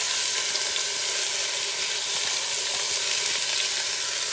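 Onion, sweet pepper and celery sauté in a pan with a steady, dense sizzle that stays close and even throughout, with no voices.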